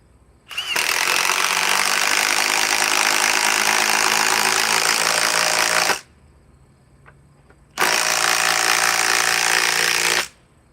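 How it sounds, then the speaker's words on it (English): A battery impact wrench with an 8 amp battery drives a 10-inch lag bolt in a loud, rapid hammering burst of about five seconds, then after a short pause a second burst of about two and a half seconds. "let's go back to the impact wrench with the 8 amp forge battery"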